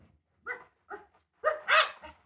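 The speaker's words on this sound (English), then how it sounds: "An inquisitive dog. Whatever disturbs him isn't buried very deep. Listen to him digging." A dog in a radio drama barks four times in short bursts, the last two louder and close together, with quiet gaps between them.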